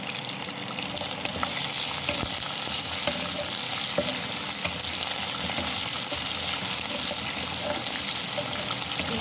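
Whole small onions fry in hot oil for venthaya kuzhambu, a Tamil fenugreek curry, giving a steady, dense sizzle with occasional crackles and stirring noises, loud and continuous throughout.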